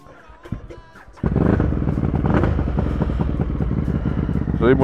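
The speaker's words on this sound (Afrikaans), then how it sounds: "So die motorfiets, werk nog mooi." A motorcycle engine runs close by in Beijing, China, a quiet idle that jumps after about a second into a loud, steady, throbbing roar that holds to the end, with no talking.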